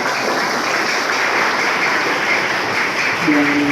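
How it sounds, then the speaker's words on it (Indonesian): Applause for a madrasah headmistress at the opening of a youth Red Cross (PMR) training at an Islamic junior high school, a dense, steady wash of clapping with a faint tone entering near the end. "Tepuk tangan untuk Ibu Kepala Madrasah."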